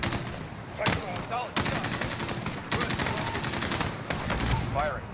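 Sustained machine-gun fire in the video game Modern Warfare, loud rapid bursts with brief breaks, under intermittent radio-style voices.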